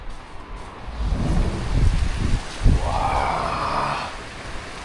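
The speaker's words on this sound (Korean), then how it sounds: "비가 엄청나게 쏟아집니다." Heavy rain pouring down steadily as a broad, loud wash of noise, with a few low rumbling surges around the middle, and no voices.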